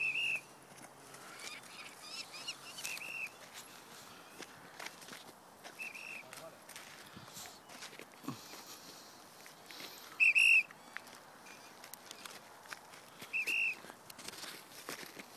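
Short, high whistled notes come faint and spaced apart over a quiet outdoor background with soft rustling and footsteps, in a controlled countryside rearing and release setting, with two brighter bursts near the end.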